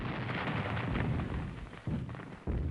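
Grenade blasts in a video game roll together into a dense, continuous rumble of booming explosions, loud and close, with short breaks near the end before the rumbling resumes.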